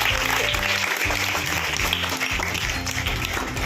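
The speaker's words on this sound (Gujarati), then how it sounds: "મેઘનાબેન માટે પણ એકવાર તાળી પાડીએ." Students at a girls' school celebration for Mother Language Day in Gujarat clap together in a steady, dense burst of applause that stays loud throughout the brief stretch.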